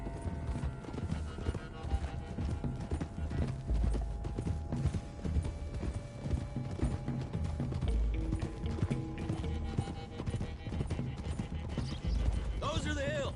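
Several horses' hooves clip-clop steadily throughout on a road in the video game Red Dead Redemption 2, with an occasional whinny and a low background hum.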